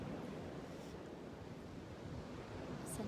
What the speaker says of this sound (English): The waves are crashing in right now.